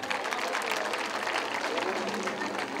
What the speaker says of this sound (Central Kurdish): چەپڵەی بۆ خۆتان لێدە